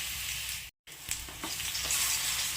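Round slices of peeled plantain fry in ghee with a steady close sizzle broken by a brief gap, then a few scraping stirs as the sizzling grows stronger, no voices present.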